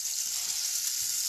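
A big knob of butter with oil sizzles steadily in a pan for a pancake inside a caravan, giving a continuous bright hiss, close and even throughout.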